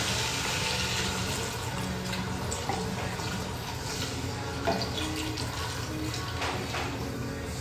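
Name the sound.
pouring Cabernet wine, beef broth and Worcestershire into a pot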